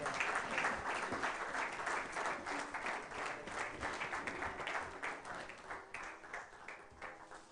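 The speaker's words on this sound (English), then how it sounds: "We have a round of applause, please." Audience applause at a medical book launch, a steady dense patter of many hands clapping at a moderate distance and continuing for several seconds.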